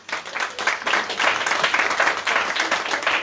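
Audience applause at a literary conference on crime fiction, a dense steady patter of many hands clapping that carries on evenly for several seconds at moderate volume, with faint murmured voices beneath.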